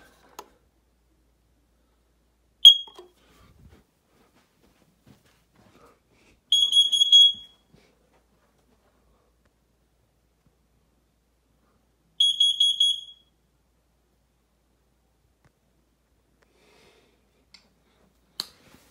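Smoke alarm under test giving short, sharp high-pitched chirps: one brief beep, then two separate bursts of rapid beeping about a second long each, spaced several seconds apart, loud against otherwise silent surroundings.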